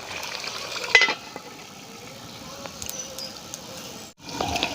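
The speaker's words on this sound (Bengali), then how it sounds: "এবার আমি ঢাকা খুলে নাড়তে থাকবো।" Bengali village-style desi chicken curry with red gravy cooking in a pan, with a low steady simmering sizzle, a clank of the lid or spoon near the start and soft stirring scrapes, a brief cutoff near the end.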